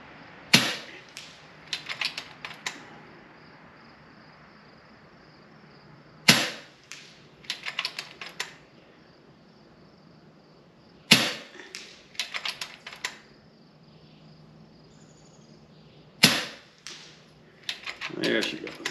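An FX Impact M3 air rifle fires four sharp shots at roughly five-second intervals, each crisp crack followed by a quick cluster of clicks from the action and the target, against a quiet outdoor background.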